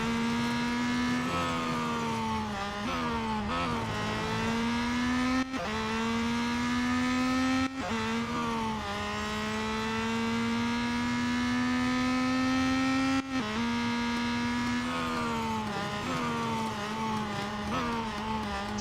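A Peugeot 9X8 race car in the Real Racing 3 video game holds a loud, continuous high-revving engine whine, with the pitch rising and dropping sharply at each gear change throughout.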